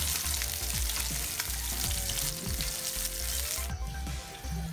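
Tortang dilis, an anchovy omelette, frying in a pan with a loud, close, continuous sizzle and crackle, broken by a few scraping touches from a utensil.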